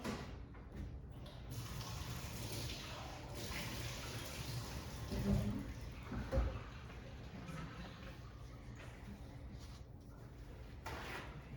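Water runs quietly and steadily while something is rinsed out, a soft faint wash with a couple of brief louder splashes partway through.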